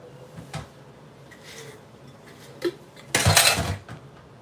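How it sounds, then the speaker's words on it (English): Dishes being washed at home, with sparse clinks of plates and cutlery, a soft knock early, then a louder clattering jumble of pots and dishes near the end. "Every time I turn around, it's another dish to wash."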